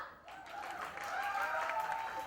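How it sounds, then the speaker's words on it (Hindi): Audience applause at a TV show launch event for a children's singing contest, a steady, fairly faint patter of clapping that swells slightly midway. "तालियां।"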